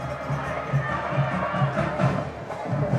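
Crowd at a high school football game between Benjamin Russell and Smiths Station, a continuous broad murmur with rising cheers and shouts, with a voice talking over it throughout.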